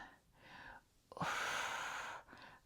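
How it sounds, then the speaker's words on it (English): Close breathing during a full-body strength workout: a couple of soft inhales, then a longer, louder exhale lasting about a second, then another quieter breath, with no speech. "Breathe. Exhale. Inhale."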